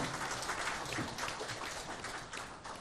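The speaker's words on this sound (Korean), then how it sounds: "우리 박수로 하나님께 영광 돌리겠습니다." A church congregation applauding during a Sunday worship service after a choir's hymn, a steady wash of many hands clapping that runs for about three seconds, moderately distant and fairly quiet.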